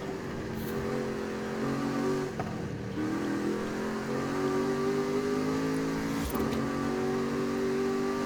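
Toyota Tacoma pickup truck engine in Forza Horizon 5 hums steadily while driving, a continuous loud mid-range drone with slight pitch shifts as it holds speed, no voices.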